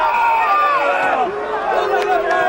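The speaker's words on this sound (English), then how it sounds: "The crowd baying at their team." A football crowd at a 2013/14 semi-final second leg between Rotherham and Bristol bays and roars at its team, a dense, continuous wall of massed voices with swelling chants and whistles, loud and steady throughout.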